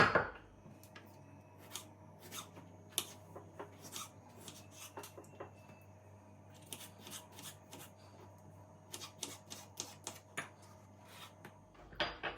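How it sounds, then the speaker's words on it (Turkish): A knife dices tomatoes on a cutting board in quick, uneven bursts of sharp chops, close up, with a low steady hum underneath and no talking. "Domateslerimi de küp küp doğrayacağım."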